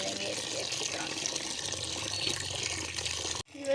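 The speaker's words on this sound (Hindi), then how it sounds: "और अब हम इसको अच्छी तरह धो लेंगे।" Fenugreek (kasoori methi) leaves are rinsed under running water in a tub, a steady close rush of splashing water that cuts off abruptly near the end.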